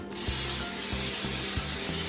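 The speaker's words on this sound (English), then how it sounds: "now obviously we're gonna spray the pan so the things do not get stuck" Cooking spray hisses from a can onto a pan as it is greased for meal prep, one continuous close spray lasting about two seconds without talk.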